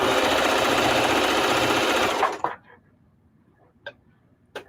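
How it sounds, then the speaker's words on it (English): A sewing machine runs steadily, stitching quarter-inch quilt seams for a beginner quilt, loud and continuous for about two seconds, then it stops and a few faint clicks follow in a quiet room. "if you use the same machine, because different machines sew the seams differently"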